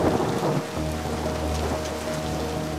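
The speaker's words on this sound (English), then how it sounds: "It's raining." Steady rain patters and hisses throughout at the Jersey Shore, with a low rumbling undertone, with no voices.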